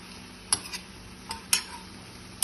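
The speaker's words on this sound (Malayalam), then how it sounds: "നമുക്ക് നല്ലതുപോലെ ഇളക്കി നോക്കാം" A spoon scrapes and taps through ivy gourd stir-fry in a pan, giving a few sharp scrapes and knocks at irregular intervals over a faint steady sizzle.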